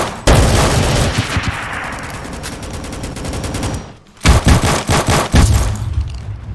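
Rapid gunfire from the Roblox game Rolling Thunder, dense bursts of automatic fire with loud repeated shots, a brief lull near the end, then more volleys resuming close and loud with no talk.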